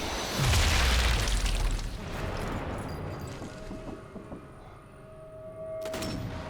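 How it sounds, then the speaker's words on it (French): Heavy explosion booms from grenades in the Sniper Elite 4 video game, a loud low blast early on followed by a rumbling tail, scattered pops and a later burst near the end. "les grenades c'est franchement épique"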